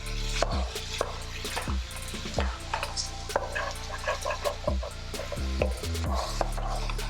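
A spatula scrapes and taps through ground meat frying in a non-stick skillet for dirty rice, a string of sharp knocks and scrapes over a steady low sizzle, close and clear.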